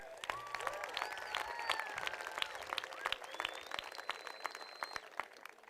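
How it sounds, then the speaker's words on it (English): Warm applause fills a high school graduation ceremony for the student speakers, dense steady clapping with a few cheers and whoops over it. "One more round of applause for our student speakers here tonight"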